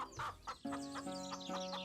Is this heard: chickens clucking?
yes